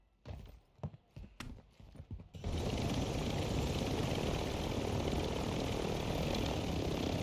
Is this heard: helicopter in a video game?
yes